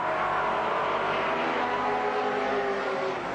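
Race cars at the 1983 Bathurst race finish, a steady loud roar of engines passing at speed, continuous and dense with no pauses.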